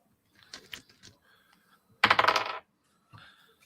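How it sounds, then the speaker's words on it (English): Dice clatter and roll across a hard surface in a short, busy burst, preceded by faint small clicks and followed by quieter rattling, with little else around it. "You hear a dice rolling."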